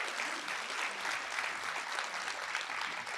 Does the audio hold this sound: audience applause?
yes